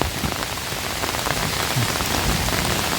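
Heavy rainstorm pounding down outdoors in the Thai countryside while foraging for mushrooms, a dense, steady roar of rain close by with no let-up and no voices.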